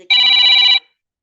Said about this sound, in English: I hear it ringing on the computer in my room now.